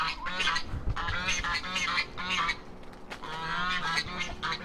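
Loud, overlapping honking and squawking calls from a flock of chickens near the listener as they are fed pumpkin scraps, steady and busy throughout with no pauses.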